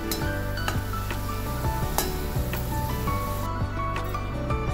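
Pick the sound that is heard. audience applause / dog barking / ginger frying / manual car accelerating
ginger frying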